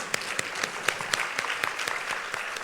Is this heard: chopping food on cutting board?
no